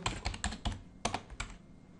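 Computer keyboard typing while entering PHP code: quick, uneven clusters of close key clicks in two short runs separated by a brief pause, quiet and without talk.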